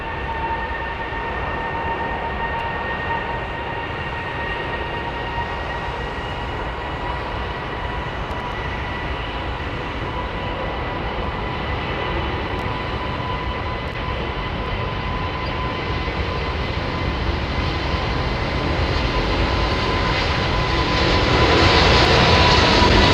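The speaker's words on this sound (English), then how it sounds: "I think we could get a pretty big flexi takeoff with this 380" Airbus A380 on a reduced flex-thrust takeoff, a steady, loud, droning jet-engine roar with a faint whine that slowly builds in strength toward the end.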